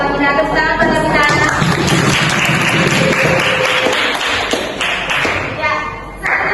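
A classroom of students claps together in a dense, continuous burst of applause that lasts several seconds, with voices talking over and through the clapping.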